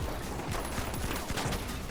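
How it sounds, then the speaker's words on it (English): Gunfire and explosive bursts from The Finals, an RPG round striking an explosive barrel, heard as a dense, continuous clatter of shots and blasts at steady high loudness with no clear pause. "I just shot his barrel with an RPG"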